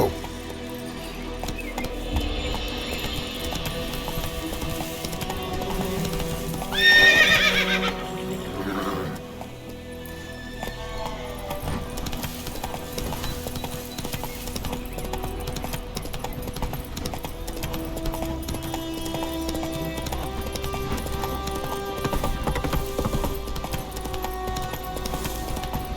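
Horse galloping in The Witcher 3, a steady run of hoofbeats under game music and ambience, with a brief louder burst partway through and no speech.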